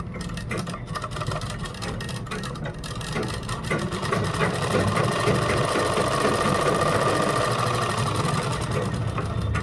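Sewing machine stitching the neckline of a kurta, a steady rapid whirring run that continues throughout, fairly loud and close, with a faint voice now and then.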